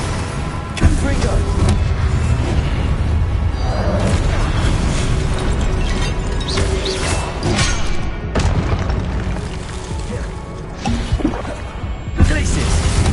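Fiery Confringo blast spells from the Hogwarts Legacy video game boom repeatedly through a dense, loud battle mix, with sharp bursts near 1 and 12 seconds amid continuous combat noise and voices.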